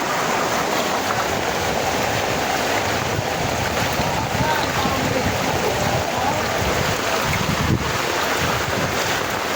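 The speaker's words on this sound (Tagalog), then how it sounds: "Diyos, ang lakas ng tubig." Loud, continuous rush of fast-flowing flood water in a residential subdivision, a broad roaring wash with wind buffeting, steady throughout.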